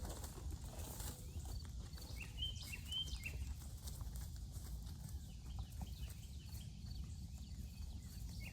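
A rehab horse, a mare, walks while being worked in hand, her hooves clip-clopping steadily at a moderate distance over a constant outdoor background with occasional bird sounds.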